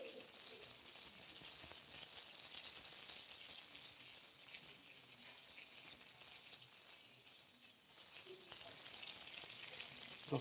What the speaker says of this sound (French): Donc vous voyez que la peau se cuit très bien.